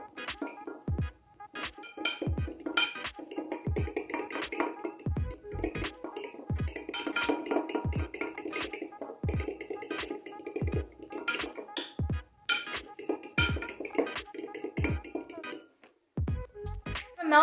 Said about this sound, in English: now let's mix this and see if my chocolate has melted